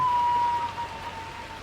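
Soft, steady patter of rain falls on a chicken coop throughout, faint and even, with a thin high tone fading in the background.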